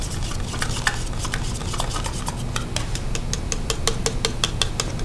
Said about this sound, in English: Now I'm just going to give it a quick stir just to get this mixed up.